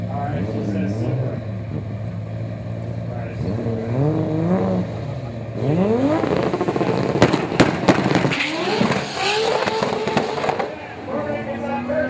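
A turbocharged Toyota Supra launches with loud anti-lag bangs and pops, a rapid burst of sharp cracks over rising engine revs, with a crowd and voices around it.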